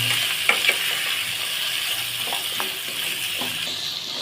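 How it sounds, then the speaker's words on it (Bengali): Pumpkin pieces seasoned with salt and turmeric fry in hot oil while being stirred, a continuous close sizzle broken by several light spatula scrapes and clinks against the pan. "ভালোভাবে নেড়ে চেড়ে ভেজে নিব।"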